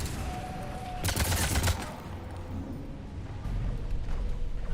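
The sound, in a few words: gunfire in video game Mass Effect 3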